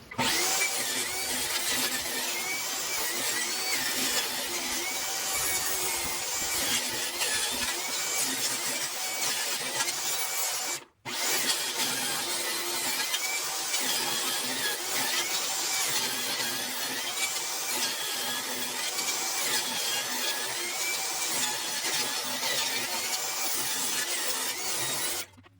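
A power saw rips 3/8-inch strips for covering plastic edges, a loud, steady high-pitched whine that runs continuously, cuts out briefly midway, then resumes to the end.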